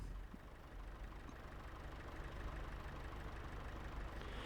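Tractor engine idling in the Farming Simulator 25 game, a steady low rumble held at an even level throughout, faint and alone with no talk.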